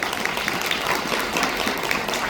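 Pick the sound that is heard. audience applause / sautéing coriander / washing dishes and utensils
audience applause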